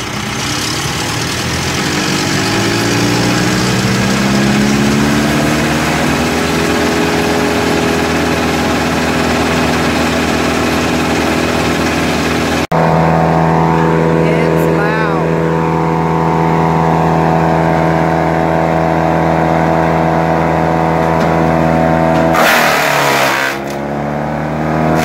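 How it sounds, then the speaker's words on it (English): A Home Depot tree branch chipper mulcher engine runs loud and steady, first idling and then revving up with rising pitch, a sharp break partway through and another surge near the end. "It idles at about 800 RPMs and it chips between 2000 and"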